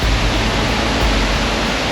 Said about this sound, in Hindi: पानी इतनी ताकत से गिरता है कि उसकी गड़गड़ाहट से पूरा जंगल गूंज उठता है।